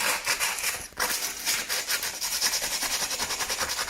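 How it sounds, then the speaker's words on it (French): Sandpaper rubbed back and forth along the sharp edge of a homemade drum, a steady rhythmic rasping of close strokes with a short break near the start, no talk over it. "Le papier de verre, on va venir poncer parce que c'est assez coupant."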